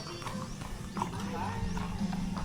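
Horse hooves clip-clop steadily on a horseback riding farm at Pililla, Rizal, close and rhythmic, while people chat over the plodding steps.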